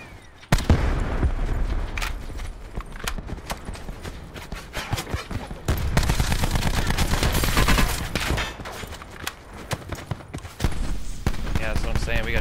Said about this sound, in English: There's another team shooting at them from Shitty City.